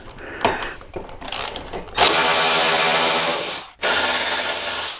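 A power tool removes bolts beneath the seat of a Harley Touring motorcycle, starting with a few clicks and rattles, then a close, loud, steady whir that briefly cuts out and restarts.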